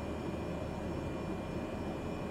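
Simulated airplane on the runway at Juan Santamaria airport in Costa Rica, a steady engine roar with a faint whine, constant and moderately loud throughout.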